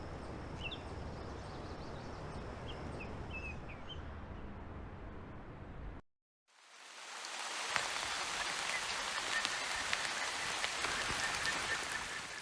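Rain falling steadily on a South American road trip, with faint bird calls in the first half; after a brief silent cut, a louder, denser wash of rain returns.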